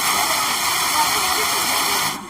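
Pulimedu waterfall near Vellore pours in a steady, loud, broadband rush of falling water, close and constant before cutting off abruptly.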